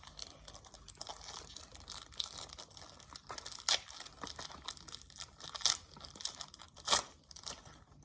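A Pokémon booster pack is torn open and crinkled, giving close, crisp tearing and foil crinkling with several sharp rips among continuous rustling.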